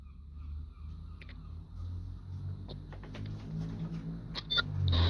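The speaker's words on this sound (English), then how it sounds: "Not sure how easily you'll be able to hear me. I'm driving in the car." Inside a moving car, a steady low road rumble and engine drone fills the cabin, with light ticks and rattles rising a little louder toward the end.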